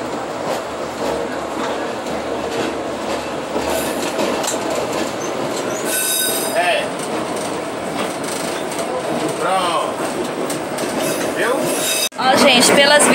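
A Cariri metro train runs on its rails between Crato and Juazeiro do Norte, heard from inside the cabin: a loud continuous rumble with wheel squeals and rhythmic clicks, and voices talking faintly underneath.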